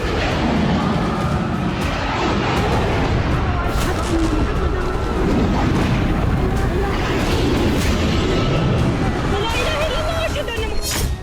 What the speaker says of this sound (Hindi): सीरिया और इराक में 2-3 फरवरी की रात घंटों बमबारी होती रही